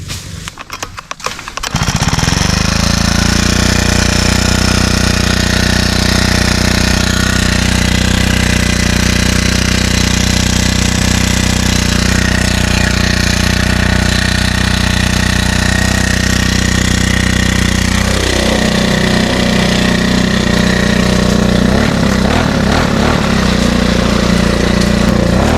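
A grass cutter's motor starts with a few rough sputters, then runs in a loud, steady buzzing drone close by, shifting pitch slightly near the end.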